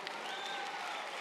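Brief burst of applause at a university commencement ceremony, a dense wash of clapping from a crowd, steady and fairly even throughout.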